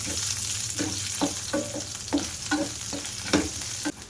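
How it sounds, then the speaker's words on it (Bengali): Chopped onion frying in hot oil in a pan as a spatula stirs it, a steady sizzle broken by regular scraping strokes, close and clear with no talking. "পেঁয়াজটা লাল লাল করে ভাজা করে নিয়েছি"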